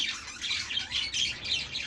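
Budgerigars squawk near a clay breeding pot, a close, continuous cluster of harsh, high-pitched calls with no voices over them.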